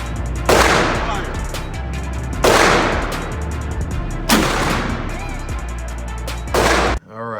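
Four loud, sharp gunshots ring out at a concealed carry live-fire training range in Illinois, spaced about two seconds apart, each followed by a short echoing tail.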